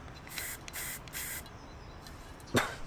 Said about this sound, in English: I will attach the spray gun to the spray can and I'll be painting like this.